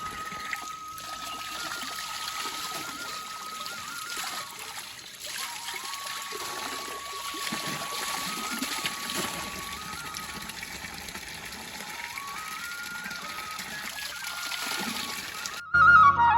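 Cold water pours and trickles in a steady stream during an outdoor bath in a mountain village in Uttarakhand, a continuous moderate splashing flow lasting throughout.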